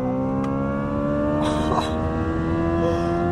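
A Hyundai Ioniq 5 N electric car accelerates hard with its boost button engaged, a steady loud drive whine with layered tonal harmonics rising slightly over about three seconds, heard from inside the cabin.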